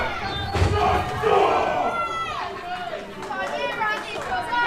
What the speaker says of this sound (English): The crowd chanting,